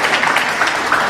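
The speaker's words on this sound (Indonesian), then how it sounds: "Kita tepuk tangan lagi untuk semua pembicara di depan kita." Audience applause for the speakers at an Indonesian debate event, a dense steady patter of clapping filling the short moment without a break.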